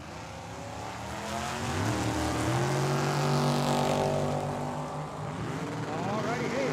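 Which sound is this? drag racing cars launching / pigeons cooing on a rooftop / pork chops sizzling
drag racing cars launching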